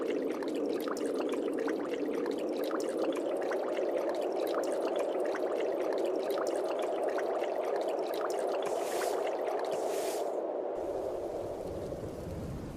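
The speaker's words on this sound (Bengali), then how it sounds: "বলতে না বলতে দেখছি বৃষ্টি চলে এসেছে" Rain sets in over a river around a broken fishing boat, a steady rushing pour of water that holds evenly and then thins toward the end, with no voices.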